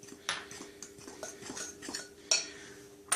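A utensil stirs baking powder into three cups of flour in a bowl for scones, giving faint, soft scraping with a few light clinks against the bowl, quiet and close, with no voices.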